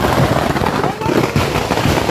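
Fireworks and palm-leaf firecrackers go off during a temple festival display, making a dense, loud, continuous crackle and rumble with no pause.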